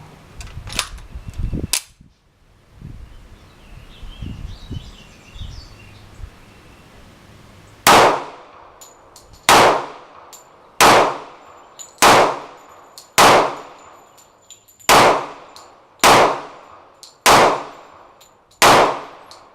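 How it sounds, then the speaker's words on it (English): A Taurus PT145 pistol is fired offhand: after a few light clicks, about ten sharp, loud, close shots ring out at a steady pace, each fading quickly. "I'm going to shoot these offhand"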